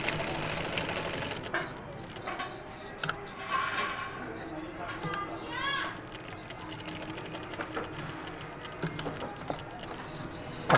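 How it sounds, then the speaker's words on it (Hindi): A sewing machine stitches a round Sherwin-style collar in bursts of fast mechanical whirring, fairly faint, with pauses and someone speaking over it. "थोड़ी सी कॉलर से हटा के सिलाई लगानी है ताकि हमें पलटाने में आसानी हो।"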